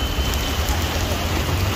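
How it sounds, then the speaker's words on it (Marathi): Extreme, very heavy rain pours down in a steady, loud roar of dense drops on surfaces close by, with no talk. "एवढा एक्स्ट्रीम पाऊस आणि खूप जोरात पाऊस चालू झालाय"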